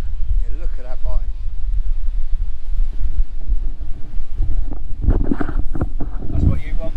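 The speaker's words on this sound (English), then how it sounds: "It's proper windy." Strong wind at the Edale campsite buffets the microphone in a steady low roar, with people talking over it throughout and a louder stretch of voices near the end.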